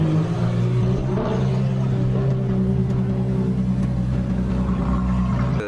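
A toy Lamborghini car gives off a sustained electronic engine-revving drone, a steady humming whir at close range with no talking over it.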